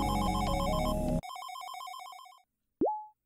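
Phone ringing in a video game: a bright electronic ring pattern over a dense musical burst, then a clean repeating ring tone that fades, followed by a short rising chime; no talking.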